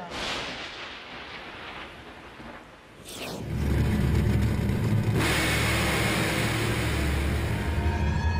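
A top fuel drag racing car launches and accelerates hard down the strip, its engine swelling from a distant rumble into a loud, sustained, dense roar that fills the rest of the clip with no talk.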